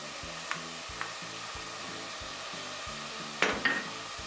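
Tomato paste frying with lightly sautéed onions in a pan gives a steady low sizzle, broken by faint stirring scrapes and a brief louder clatter near the end.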